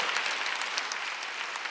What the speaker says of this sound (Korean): 박수 세게 치시라요.